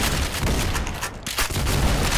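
Rapid gunfire from a first-person shooter video game, dense bursts of shots that run continuously and loudly with a brief dip partway through, no voices.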